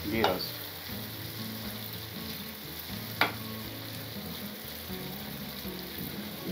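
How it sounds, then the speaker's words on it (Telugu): Prawns roasting in ghee in a non-stick pan give a steady close sizzle, with two sharp spatula scrapes cutting through the frying noise and no one talking. "గీ రోస్ట్ ఇది, ఫ్రై కాదు, గీ రోస్ట్."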